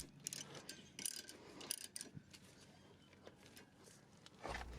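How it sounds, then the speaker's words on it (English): A 13mm socket wrench ratchets in quick clicking bursts while snugging brake caliper guide pin bolts on a 2011-2014 S197 Mustang with performance calipers, loud at first and then quieter, with a few metallic knocks. "with our 13mm socket and socket wrench, let's go ahead and install these guide pin bolts"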